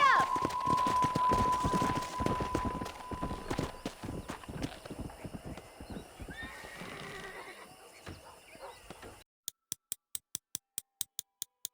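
A horse in Red Dead Redemption gallops with rapid, rhythmic hoofbeats, and a whinny comes near the start. A voice urges it on before the galloping fades, followed by a few faint regular ticks.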